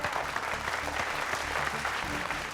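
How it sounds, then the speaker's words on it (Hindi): A crowd applauds steadily and enthusiastically for a couple of seconds, dense clapping close and loud. "नीलाभ मिश्रा जी के लिए जोरदार तालियां"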